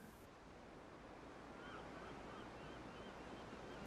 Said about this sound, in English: Here, the foam splashes straight upwards with each wave.